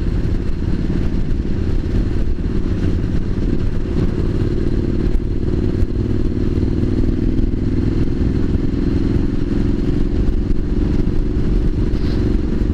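A Triumph SS900 motorcycle cruises along a road on the way to a bike night, its engine giving a loud, steady close drone with wind rush and no talking.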